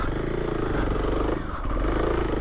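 A 2024 Kawasaki KLX300 dual-sport motorcycle engine drones steadily at close range while riding an overgrown trail, with a continuous rumble and no break.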